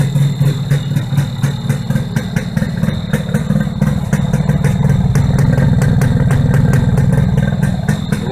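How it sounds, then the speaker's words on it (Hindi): A Yamaha RX 100 two-stroke motorcycle idles steadily after sitting unused for six months, a loud, close, rapid ticking putter that keeps running evenly without any talk. "बाइक कंटिन्यू स्टार्ट चल रही है।"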